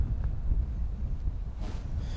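Wind buffets the microphone on an open boat while perch fishing, a low rumbling gusty noise close and fairly loud, with a faint rustle partway through.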